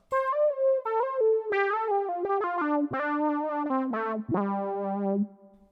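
A guitar synth pedal's synth-only sound plays a guitar-driven lead line, a melodic phrase of sustained and stepping notes, clean and upfront, ending in a short decay.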